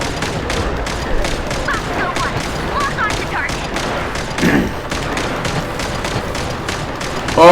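Rapid gunfire in the video game Genshin Impact, a dense run of steady shots rattling on through the whole stretch at moderate loudness, with a voice briefly rising over it.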